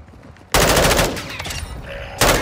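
Bursts of rapid automatic gunfire in Call of Duty: Modern Warfare II, loud and close, one long volley followed by a second burst starting near the end.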